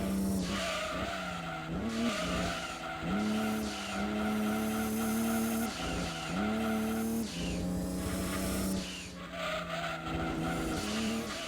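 Race car engine in Gran Turismo 2 as the throttle is lifted and the car coasts through gear changes, a steady droning engine tone that dips and recovers repeatedly, with tyre-squeal-like noise throughout at moderate level.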